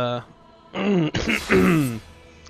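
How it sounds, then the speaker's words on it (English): A man clears his throat in a few rough, voiced bursts with a short groan-like rasp, close and loud, with brief pauses between efforts. "clear my throat first"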